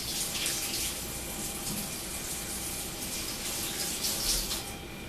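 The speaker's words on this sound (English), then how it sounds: "So I'm going to clean my spoon up here, set that aside, wash my hands." Tap water runs steadily into a sink while hands are washed in a home kitchen, a continuous close splashing rush with no voices.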